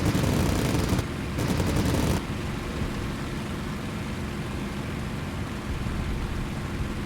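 Aircraft machine guns strafing ground targets in the flight combat game Cliffs of Dover: loud, rapid gunfire bursts over roughly the first two seconds, then a steady engine drone carries on alone.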